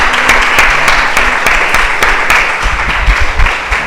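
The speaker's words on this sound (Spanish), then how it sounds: "Denle un aplauso al Señor por eso." Church congregation applauding in praise during a Spanish-language service, a steady dense wash of clapping with some louder individual claps standing out, sustained throughout.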